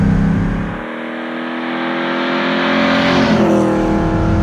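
A 1974 Alfa Romeo Montreal engine revs hard, dips briefly, then climbs again in a loud, raspy roar close by.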